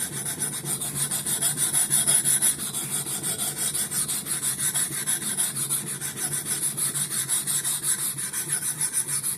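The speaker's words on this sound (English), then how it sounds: "every now and then I like to take them back to a stone and make sure I'm not getting too rounded on the cutting edge" A Husqvarna hatchet is sharpened on a Norton Crystalon stone, producing a steady, loud, continuous rasping scrape with even rhythmic strokes and no talking.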